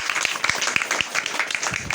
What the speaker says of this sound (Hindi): हमारे गुरु रामाशीष गुप्ता जी के लिए एक बार जोरदार ताली,